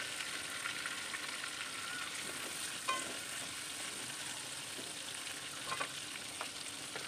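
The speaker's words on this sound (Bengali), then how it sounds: "আর একে একে কিন্তু আমি আলুগুলোকে তেলের মধ্যে দিয়ে দিয়েছি, আর খুব ভালো করে কিন্তু মিডিয়াম ফ্লেমে আলুগুলোকে আমি ভেজে নেব।" Potatoes fry in oil over a medium flame, giving a continuous soft sizzle with a few faint stirring clinks, close and steady, with no talking.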